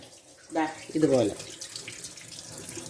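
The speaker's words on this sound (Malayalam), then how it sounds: "കുറച്ച് വെള്ളം ഇതിൻ്റെ ബാക്കിൽ ഒഴിച്ചു കൊടുക്കണേ" Water splashes briefly onto the back of a hot idli steamer plate in a home kitchen, a short close pour over metal that dies away quickly, with no talking.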